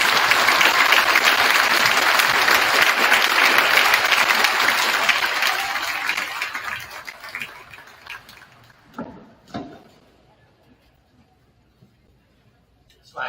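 An audience applauds a guest of honor, a retired colonel, with loud sustained clapping that gradually fades over about eight seconds, followed by a few scattered claps and quiet room noise.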